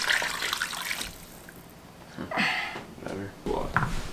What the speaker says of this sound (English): We can now add more water.